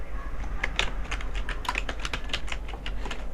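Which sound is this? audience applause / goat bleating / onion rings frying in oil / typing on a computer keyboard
typing on a computer keyboard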